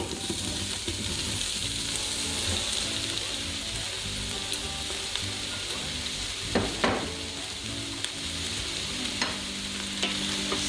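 Vegetables being stirred in an Instant Pot for a vegan asparagus soup: a steady wash of sizzling and scraping, close and continuous, with a couple of sharper utensil knocks near the end.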